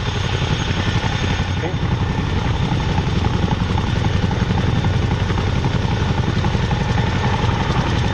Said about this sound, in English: The Wildcat HMA Mark II is the Royal Navy's shipborne attack helicopter